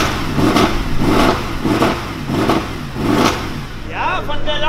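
A Mercedes C63 V8 sits at a tuning shop opening and gives five rhythmic loud revs close by, a deep throbbing roar in even pulses. A voice starts speaking as the last rev dies away.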